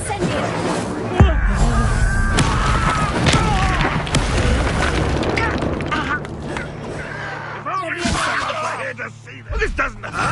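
A fiery Incendio spell erupts in the Hogwarts Legacy video game, a loud booming burst amid constant combat effects and energetic speech layered over the action.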